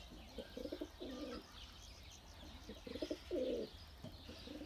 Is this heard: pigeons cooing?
yes